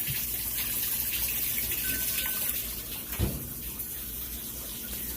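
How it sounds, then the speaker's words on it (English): A Kenmore washer fills with water in a steady, loud rushing gush that continues throughout, with a brief thump near the middle. "See, it's bringing in the water just fine."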